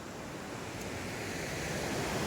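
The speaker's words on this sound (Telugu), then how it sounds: "వినిపిస్తూ ఉంది మనకి నీళ్ళ సౌండే, ఎందుకంటే నేను కల్లు వాటర్ ఫాల్ పక్కనే ఉన్నాను" Kalu Waterfall in the Malshej Ghat, heard close by as a dense, steady roar of rushing water, broad and constant for the whole short stretch.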